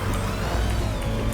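A steady, continuous car engine drone from the video game Need for Speed Heat hums with a low rumble throughout, holding an even level with no pauses or talking.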